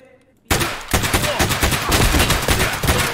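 Rapid automatic gunfire in Escape From Tarkov erupts suddenly after a quiet moment, a loud close burst of repeated shots continuing without pause.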